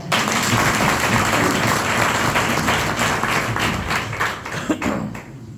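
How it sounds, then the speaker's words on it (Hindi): A large audience at a direct-selling leadership speech gives loud, dense applause, a thick roar of many hands clapping together that stays strong and then gradually tapers off near the close. "तो सभी लोग इनके लिए जोरदार ताली बजाएं।"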